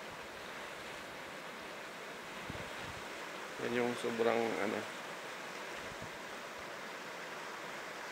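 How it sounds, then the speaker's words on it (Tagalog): Hot water seethes at the Daclan sulfur spring near a dead volcano in Bokod, Benguet, a steady hissing wash of bubbling noise throughout, with someone talking briefly over it midway. "Kung makikita nyo po ay kumukulo yung tubig."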